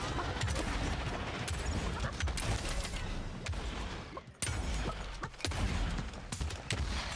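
Rapid heirloom rifle gunfire in the Realm Royale video game, a dense, steady barrage of shots with a brief lull midway before the firing resumes just as heavily.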